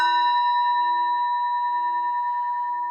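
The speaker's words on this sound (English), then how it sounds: "The sound of the temple bell booms for all to cease from conflict." A single bell rings at a Zen Buddhist temple in Ann Arbor during a Sunday service, a struck tone that hums on alone, clear and steady, slowly fading over a few seconds.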